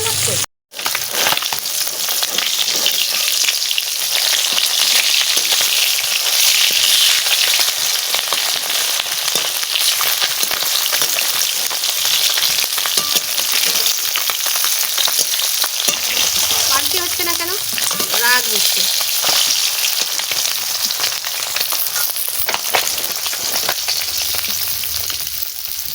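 Fish frying in oil gives a loud, continuous sizzle with occasional stirring and scraping, and a brief voice is heard near the end.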